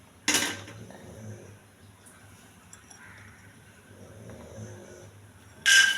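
A pan lands on a lit stove with two sharp metallic clanks, one at the start and one at the end, separated by a quiet stretch of low background noise.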